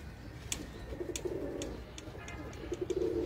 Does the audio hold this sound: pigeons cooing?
yes